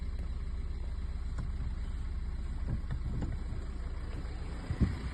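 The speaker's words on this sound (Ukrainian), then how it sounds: "Двигун працює рівно, навіть на холодну, не димить" A 2015 Renault Fluence engine idles cold with a steady, even low hum that carries on unbroken, joined by a few faint clicks and a soft thump near the end.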